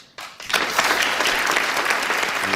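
A studio audience on a TV talk show breaks into applause after a brief quiet start, then sustains dense, steady clapping at full volume.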